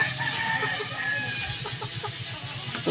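Mud-caked chickens cluck and murmur nearby in short, uneven bursts, with a faint crow mixed in, all fairly close and steady.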